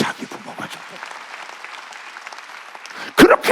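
A congregation at a Korean Sunday church service bursts into a short, loud round of clapping near the end, after a preacher's voice speaks over the sanctuary's ambience.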